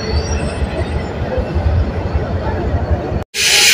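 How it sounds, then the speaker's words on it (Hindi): Awam Express 14 Down, hauled by locomotive 4554, rolling into platform 5 at a station: a loud, continuous, close rumble of wheels and carriages that briefly cuts out near the end before returning brighter. "6 मिनट बिफोर 4554 की क़ियादत में 14 डाउन अवाम एक्सप्रेस प्लेटफॉर्म नंबर 5 पर पहुंच चुकी है।"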